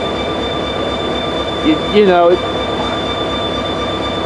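A B&O GP30 diesel locomotive idles with a steady, droning hum and tonal whine, close and constant, while someone briefly speaks over it midway.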